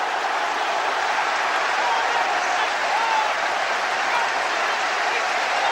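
A football stadium crowd at a 1997-98 Chelsea versus Southampton match applauds a goal, a dense, steady wash of clapping and crowd noise filling the whole stretch, with faint commentary underneath.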